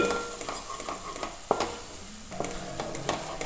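Whole spices for vegetable biryani fry in a pan and are stirred, producing a close, steady sizzle punctuated by sharp scraping knocks of the spoon against the pan, with no talking.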